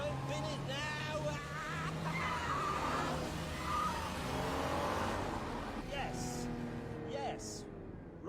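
A Stinger car drives and races past with a steady engine drone and rising revs, mixed with tire noise and music-like tones across the whole stretch.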